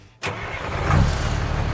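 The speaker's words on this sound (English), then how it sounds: "I am starting the truck!" A large truck's engine cranks and catches after a brief quiet start, then settles into a loud, steady, close-up rumbling idle in a parking lot.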